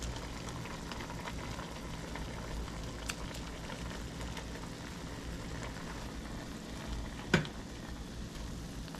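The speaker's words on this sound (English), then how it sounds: "got the water boiling" Pot of water boiling on a camp stove while truck camping: a steady low bubbling and hiss throughout, with one brief sharp clink near the end.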